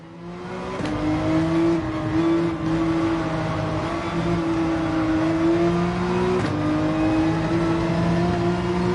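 Engine of a Lamborghini race car in Gran Turismo 7, a steady high whine that climbs in pitch, breaks sharply at two gear shifts, then climbs again, loud and close with a constant drone underneath.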